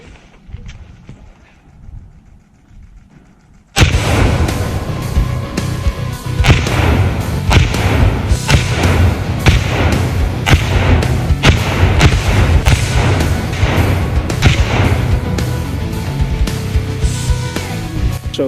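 Hand grenades exploding on a military grenade range, a quiet lead-in, then a loud sustained stretch of booming blasts and sharp cracks in close succession.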